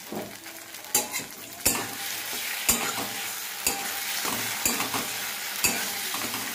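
Paneer pizza filling frying in a pan sizzles steadily while a utensil scrapes and taps the pan in regular strokes, fairly close and fairly loud with no voices.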